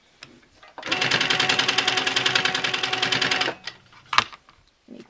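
A sewing machine runs a quick burst of rapid, evenly spaced stitches while quilt block pieces are sewn, a close mechanical whir lasting under three seconds, followed by a few isolated clicks and handling knocks.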